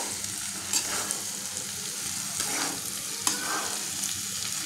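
Soaked, crushed dried loitta fish fries in a pan with a steady sizzle, broken by occasional scraping strokes as it is stirred. The sound is close and moderate in level, with no talking.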